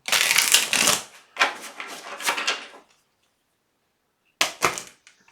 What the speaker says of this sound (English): We're just going to do a couple more shuffles and see what's going on.